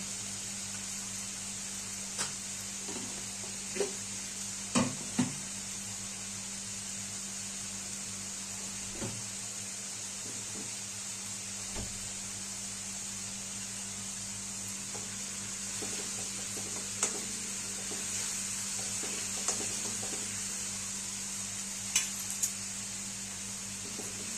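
Soybean curry masala roasts in oil in a pan, a soft continuous sizzle with occasional scrapes and clinks of a spoon, no one talking.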